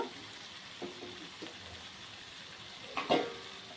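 Mutton sizzles in a home kitchen pan, a soft steady frying hiss with a few light clinks and a louder clatter near the end.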